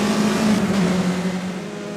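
A Renault Clio Cup race car roars at high revs during a race at Bathurst, heard close from onboard, its engine note loud and sustained before easing slightly, without speech.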